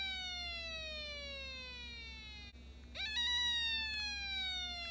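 An electronic tone from a Snap Circuits kit with bright harmonics glides slowly downward, cuts out briefly, then returns with a sharp upward sweep and holds steadily, siren-like, fading.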